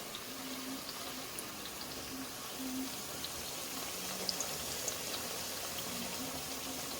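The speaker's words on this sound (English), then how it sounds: "So you can see they're frying now in the oil." Sprats frying in hot oil, a faint, steady bubbling sizzle that holds evenly for several seconds with occasional small pops, no talking over it.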